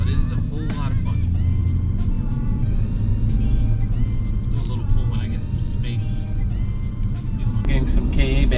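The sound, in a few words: modified 2014 BMW 435i turbos spooling and blow-off valve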